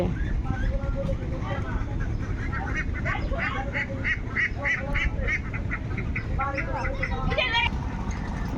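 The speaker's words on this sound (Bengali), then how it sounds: "সব হাস নদীতে" A flock of village ducks heading to the river quack steadily over a constant background wash, their calls fairly close and overlapping throughout.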